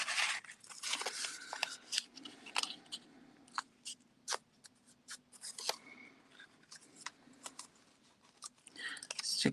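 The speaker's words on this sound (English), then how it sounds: "I'm just going to cut this a little bit smaller." Paper being cut smaller with scissors to make a mini journal, a string of close, crisp snips and rustles spaced irregularly, with some faint talking underneath.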